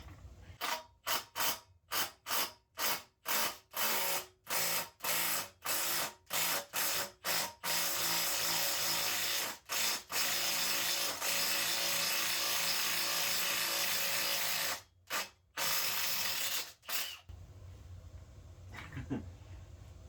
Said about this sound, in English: See if an impact does anything different.